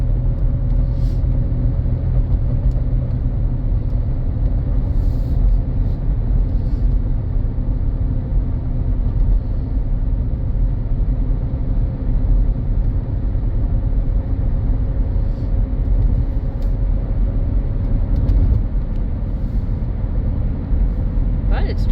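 Steady low tire and road roar fills the cabin of a 2017 Nissan Rogue on tires worn to about a quarter tread, a constant rumbling drone throughout.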